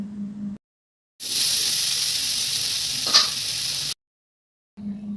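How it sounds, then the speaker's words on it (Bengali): Loud, steady sizzling of elephant foot yam pieces with turmeric and salt frying in hot oil for a few seconds, with a brief scrape of stirring partway through; quiet gaps before and after. "এবারে সবগুলো একসাথে ভেজে নেব"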